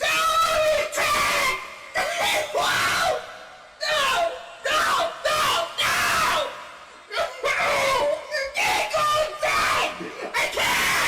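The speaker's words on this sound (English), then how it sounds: "This scream of absolute anguish was found to be quite funny" A man screams in anguish in a recorded clip, repeated loud, strained howls broken by short gasping pauses, harsh and close over about ten seconds.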